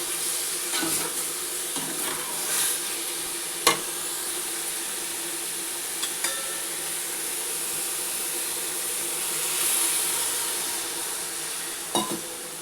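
Grated carrots fry for gajar halwa as milk is poured into the pan, giving a soft steady hiss and sizzle with occasional clicks and taps of a stirring spoon, and no voices.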